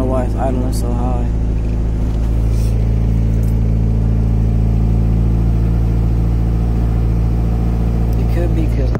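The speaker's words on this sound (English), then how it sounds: "I don't know why it's idling so high." A Honda Civic engine with a swapped H2B head runs at a high, steady idle, a loud continuous hum throughout, with faint voices briefly audible near the start.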